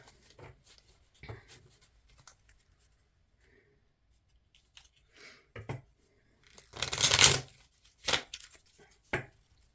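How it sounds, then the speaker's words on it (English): Sparse rustling and soft papery flicks of oracle cards being shuffled close by, building to a louder riffle burst followed by a few slaps. "I have some Twinflame Oracle cards that I'm going to shuffle and pull for you"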